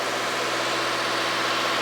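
A car engine runs at about 2,000 RPM during an intake cleaning service, a steady, loud, unbroken mechanical drone with no voices.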